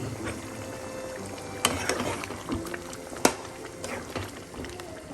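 A pot of Kerala chicken mappas curry with coconut milk and cashew paste is stirred, producing a continuous bubbling sizzle with a couple of distinct spoon knocks and scrapes.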